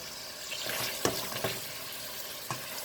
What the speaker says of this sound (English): So I'm cooking the ground beef and the veggie